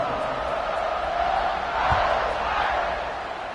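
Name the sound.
football stadium crowd cheering before kickoff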